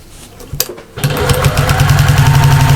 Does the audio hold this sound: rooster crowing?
no